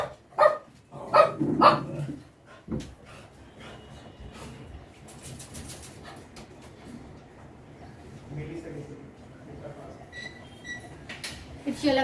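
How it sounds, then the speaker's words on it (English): Several dogs bark loudly and close by in a burst of overlapping barks near the start, then quieter yips and whimpers continue under a person talking in a home kitchen while cinnamon rolls are being made. "If you'll have heard my dogs"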